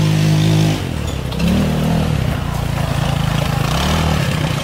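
Vehicle engine running close by as it is driven, a steady loud drone that dips and swells with throttle, with no talk over it.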